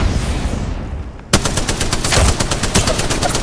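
Rapid automatic gunfire from the Spitfire in Apex Legends erupts suddenly after a quieter stretch, a loud, dense burst of repeated shots continuing steadily to the end.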